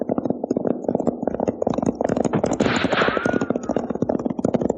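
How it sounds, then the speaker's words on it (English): Rapid volleys of gunfire from a gun battle in a 1949 western film, dense overlapping shots cracking in quick succession at moderate distance, with a louder burst midway. "That sounds like a regular gun battle."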